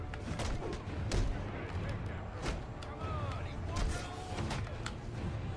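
Repeated gunfire from thugs in a Batman video game, sharp cracks and bursts in an uneven rhythm with a constant rumble underneath, mixed with game voices talking.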